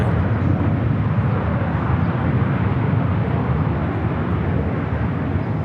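Viva Aerobus Airbus A320 airliner taking off from LAX, a loud, close, continuous jet roar with deep rumble that holds steady throughout, with no voices over it.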